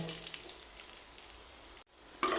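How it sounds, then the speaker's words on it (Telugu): Cashews and raisins fry in ghee with a soft, steady sizzle and faint clinks of a stirring spoon, broken by a brief silence before a louder scrape at the end. "జీడిపప్పు కిస్మిస్లు గోల్డ్ కలర్ వచ్చేలాగా బాగా ఫ్రై చేయాలండి"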